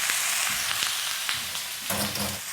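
Potatoes sizzle and fry in a pan with garlic, a steady close crackle with a few scraping stir sounds and a busier burst near the end.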